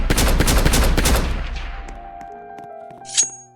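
Sniper rifle fire in the Roblox game Hide or Die, a rapid burst of loud shots that rings out and decays into quiet game tones, followed by a brief high chime.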